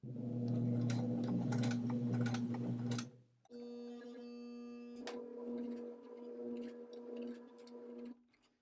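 A sewing machine sews along a zipper pouch, humming steadily at close range, pausing briefly, then whirring again at a slightly lighter, uneven pace before stopping.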